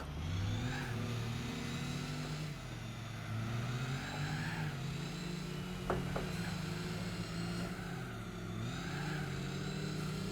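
Race car engines drone in Gran Turismo 4, a continuous mid-volume turbo engine whine rising and dipping with gear shifts and throttle, with a brief thud partway through.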